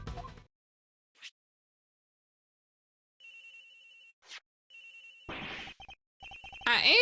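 A telephone rings in the Ace Attorney Investigations video game, with a synthesized ringtone sounding in repeated bursts separated by short pauses. A couple of brief game sound effects are mixed in, and no one speaks.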